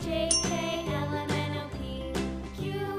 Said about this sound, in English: X for xylophone.